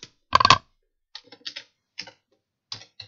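Someone types text on a computer keyboard in a few short bursts of clicking key presses, separated by pauses; the first burst is the loudest and nearest.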